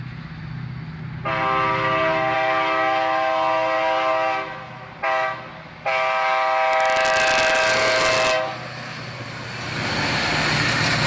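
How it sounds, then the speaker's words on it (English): A freight train led long hood forward by an SD42 locomotive, built for Burlington Northern in 1980, sounds its horn close by in two long, loud blasts with a short gap between. Rumbling train noise continues underneath and after. "An SD42, originally built for the Burlington Northern in 1980, leads this train long hood forward"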